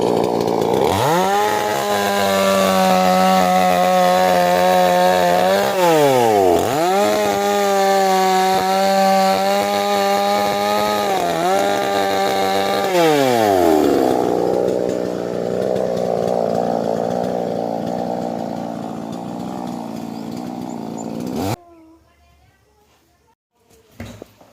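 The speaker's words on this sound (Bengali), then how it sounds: "এখন আর করাতে কোনো প্রয়োজনীয়তা নেই, এখন যন্ত্র বেরিয়ে গেছে" A powered chainsaw cuts down trees beside a house. Its loud, steady engine whine sags and recovers in pitch several times as it bites into the wood, then drops to a rougher rumble before cutting off abruptly.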